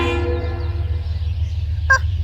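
A train passes in Switzerland with a steady low rumble throughout. A brief horn or whistle sounds near the end.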